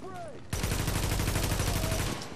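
Gunfire from The Division video game opens after a brief quieter moment into a loud, sustained burst of rapid automatic shots lasting about two seconds.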